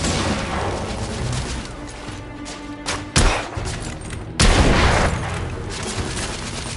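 Gunfire and grenade blasts in a war video game, a continuous rattle of shots broken by two heavy, loud booming explosions close together, no voices.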